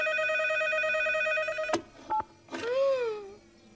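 Cartoon telephone being dialed: a steady electronic tone cuts off, then short dialing beeps follow, and a gliding tonal wail finishes the sequence, all clear and close.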